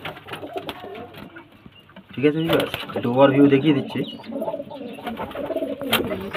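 Pigeons kept as pet pairs, including a red pair with young, coo repeatedly at close range, their low rounded calls rising over background noise while someone talks throughout.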